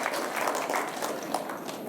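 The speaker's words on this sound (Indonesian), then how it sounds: "Tepuk tangan untuk keseluruhan." Applause from an audience at the opening ceremony of an environment ministry festival, a steady dense patter of clapping that holds at an even level throughout with no one speaking.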